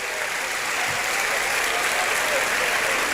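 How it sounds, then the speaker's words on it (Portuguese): Dense audience applause fills a hall at a talk on evangelization, steady and sustained from start to finish with no pause. "Eu espero que essas palmas não sejam para eu fazer"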